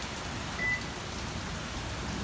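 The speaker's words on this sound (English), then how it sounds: "it's pouring like all hell" Heavy rain pours down steadily in a dense, even hiss of drops drumming on surfaces, loud and constant throughout with no voices.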